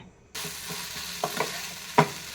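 Masala with a handful of cashews is sautéed in a pan, starting with a soft sizzle that builds into a steady fry, with a few scraping stirs and a sharper clink near the end, no voices.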